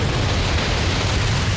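Dramatized avalanche in Alaska, heard as a continuous heavy roar and low rumble with explosive booming undertones, loud and sustained throughout without any voices.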